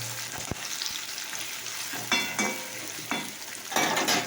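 Potatoes fry in a pan with a continuous close sizzle. Several scraping stirs and clinks of a spatula punctuate it, and the sizzle swells louder toward the end.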